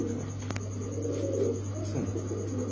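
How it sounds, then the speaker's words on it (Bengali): A silver Afshan male pigeon coos in low, throaty calls at close range, repeating through the moment alongside a steady background hum and a brief click. "ডাকটা তো আপনারা দেখছেন, আবার একটু ছাড়েন কবুতরটা"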